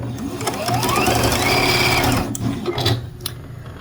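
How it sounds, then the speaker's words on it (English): A sewing machine stitches small quilt blocks together for a snowman quilt, running in one steady, close mechanical whir for about three seconds before it slows and stops, followed by a few soft handling clicks. "I'm just going to start sewing some blocks now the little blocks to get sewn together"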